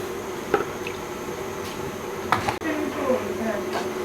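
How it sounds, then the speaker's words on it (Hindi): Drained rice for jeera rice is tipped into boiling water, giving soft splashes, wet squishes and a steady bubbling under the pot, with a few small clinks. "पानी में बॉयल आ चुका है, अब इसमें हम चावल शामिल करेंगे जिनका मैंने पानी निकाल दिया है।"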